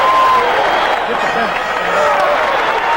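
Arena crowd at a 1979 Phoenix Suns basketball game against the Philadelphia 76ers, a steady roar of cheering and clapping under an announcer's voice.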